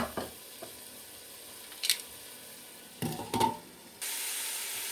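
Potatoes sauté in a pan over low heat, giving a soft sizzle broken by a few stirring scrapes and clatters, then a steadier hiss near the end.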